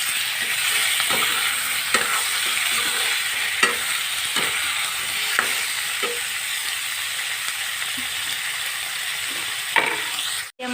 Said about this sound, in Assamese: চিকেনখিনি ধুনীয়াকৈ ভাজি ল'ম।